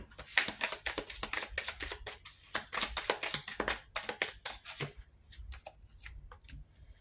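Tarot cards are shuffled by hand in a quick run of crisp riffling clicks and slaps, close and clear, slowing and thinning out toward the end.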